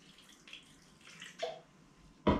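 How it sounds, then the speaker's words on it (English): Water poured into bread dough in a home kitchen, a few short soft splashes and trickles spread through the clip, then a louder close pour at the end. "So I'm just going to add a little bit more water."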